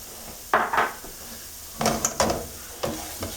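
Shallots go into a hot pan of oil with artichokes: three short bursts of clattering and sizzling, close and fairly loud, separated by quieter background hiss.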